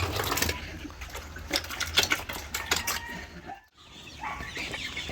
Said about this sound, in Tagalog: malakas nang tumuka yung mga sisiyo natin